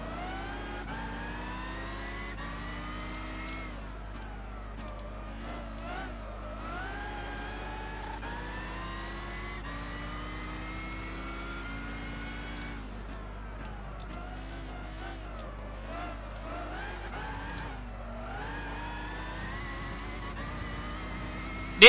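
Race car engine at Brands Hatch in Gran Turismo 6, a loud sustained whine that rises in pitch, drops at each gear shift and climbs again, repeating steadily throughout.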